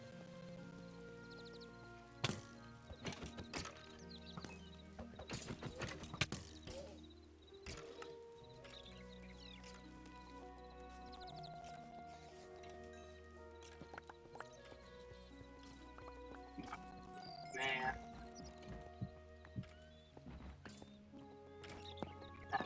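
A zombie horse in Minecraft Bedrock on a superflat survival world, heard as faint clip-clopping hooves with occasional whinnies. The sounds come in sparse, quiet bursts over a low, calm background.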